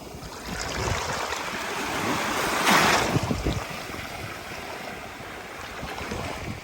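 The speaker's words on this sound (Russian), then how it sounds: "Вот такие волны здесь, смотрите. Волна, она очень сильная, прям с ног сбивает." Strong Sea of Japan waves surging and breaking close by at Tsuruga, Japan, a broad hiss that swells to a crash midway and then recedes into steady surf.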